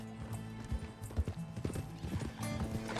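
Horse hooves clip-clopping in Red Dead Redemption 2, a quick irregular run of hoof strikes on the ground, close and moderately loud, with a faint whinny and a voice briefly in the background.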